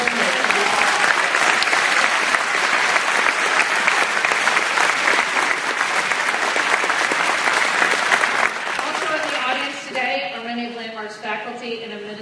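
Sustained applause from a crowd at a high school graduation ceremony, loud and steady for about eight seconds, then thinning as voices begin talking over the fading clapping.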